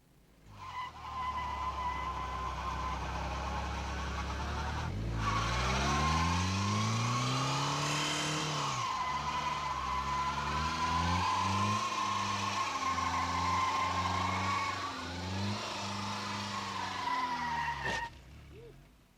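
A Toyota Tercel SR5 four-wheel drive revs hard while its rear wheels spin on boards, a loud sustained engine drone with rising and falling pitch and squealing tires, close and unbroken by talk.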